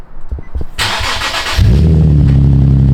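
A Nissan 370Z Nismo fires up with a few brief starter cranks, then a loud catch and a deep, rumbling exhaust settling into a steady close idle.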